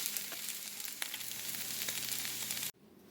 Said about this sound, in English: I'm going to let these eggs cook up